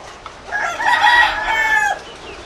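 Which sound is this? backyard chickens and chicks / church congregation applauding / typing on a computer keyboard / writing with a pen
backyard chickens and chicks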